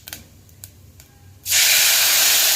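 Hot oil tempering of cumin and cinnamon for a tomato soup erupts into a loud, sudden sizzling hiss after a quiet moment with a few small clicks, then roars steadily up close.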